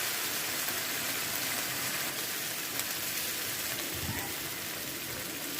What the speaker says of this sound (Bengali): হালকা হালকা ভেজে নিচ্ছি।